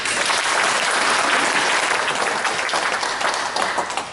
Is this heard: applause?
yes